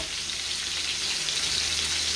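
Steady, loud sizzling of steak frying in a hot pan, a continuous crackling hiss with nothing else over it.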